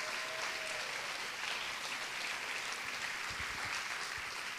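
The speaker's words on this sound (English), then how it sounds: "If I could just have one more round of applause for all of our presenters" An audience at an elementary school tech wellness day applauds presenters, a sustained wash of clapping from many hands, steady and moderately distant with a few louder claps near the end.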